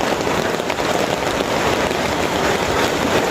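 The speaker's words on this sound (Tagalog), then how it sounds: "lumalakas na naman yung ulan" Heavy rain pours steadily, a dense, loud hiss of drops hitting surfaces without any break.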